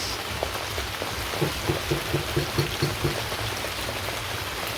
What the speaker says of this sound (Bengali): দেখেন যে আকাশ কীরকম অন্ধকার বৃষ্টি নামতেছে